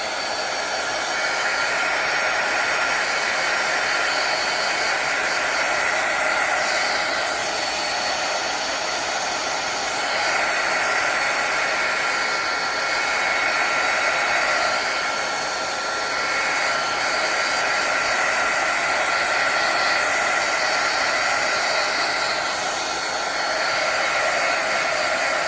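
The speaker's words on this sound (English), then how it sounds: "I'm going to torch this, heat gun it" A heat gun blows steadily over poured resin on a sculpted wood panel painted with acrylics, a loud, constant airy roar close by that carries on unbroken with only slight swells, and no talking.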